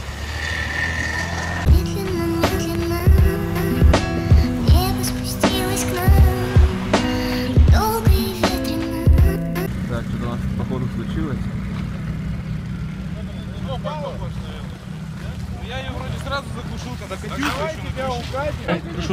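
Car in a winter ice sprint race on a frozen lake, an engine revving and droning at a distance. A passage of sharp repeated thumps comes first, then a steady rumble with people talking over it.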